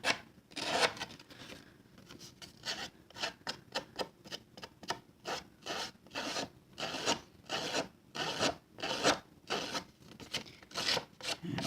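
Edges of a paper birthday card roughed up and crinkled by hand, a series of rhythmic rasping scrapes, close and fairly quiet, with short pauses between strokes.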